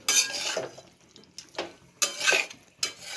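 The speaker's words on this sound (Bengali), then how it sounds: "এবার যে সেদ্ধ করে রেখেছিলাম সেগুলো সব দিয়ে দিচ্ছি মশলাটা বেশ কিছুক্ষণ ভালো করে ভেজে নিতে হবে" Boiled vegetables, including pumpkin stems, fry in a spice mix for chorchori while being stirred, giving repeated bursts of hissing sizzle and scraping that swell and fade in uneven waves, close and moderately loud.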